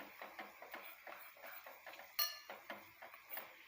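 Herbal hair oil mixture being stirred in a pot, a utensil scraping and clinking against the metal in a steady rhythm of close, repeated strokes with a few sharper clinks.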